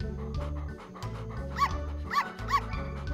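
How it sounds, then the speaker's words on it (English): Puppies in a farm litter from an animated kids' show give three short, high yips in quick succession, close and clear over steady background music. "Oh, look! An adorable litter of puppies!"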